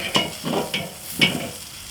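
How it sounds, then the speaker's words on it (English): A steak sizzles on a grill just after being flipped, with a few quick handling and scraping clacks over a soft, close sizzle. "Go ahead and flip this steak over"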